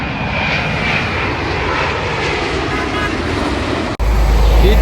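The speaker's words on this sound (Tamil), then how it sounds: "ஹீத்ரோ டெர்மினலு கிட்ட ஃப்ளைட் லேண்ட் ஆகிறத வீடியோ எடுத்து காட்டுறதுக்காண்டி" A loud, steady jet engine roar from a low-flying airplane landing at Heathrow Airport, London, fills the whole clip, close and continuous, with a brief dip near the end.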